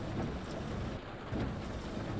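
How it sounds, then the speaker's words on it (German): Steady, dense video game rain during a storm in the bus-driving game The Bus hisses loudly and evenly throughout, with a brief slight dip in intensity midway and no voices. "Ich saß gerade im Auto und dachte wegen dem Ton, dass es echt regnet."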